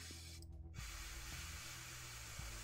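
Airbrush laying down base coats of paint, fed by a Tooty compressor: a continuous soft spray hiss with a short break, over faint rhythmic clicks and low compressor hum.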